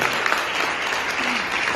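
A seated audience at a motivational network-marketing talk breaks into applause, a dense, steady wash of many hands clapping at once that holds evenly throughout.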